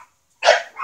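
A young female dog, about eight months old, lets out a single sharp bark after a moment of silence, close and fairly loud.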